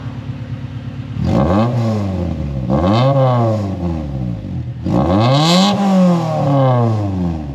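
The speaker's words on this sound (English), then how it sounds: "You rev the engine up." Honda Civic engine revved three times in quick succession, each blip rising sharply in pitch then falling back, loud and close with idle between the bursts.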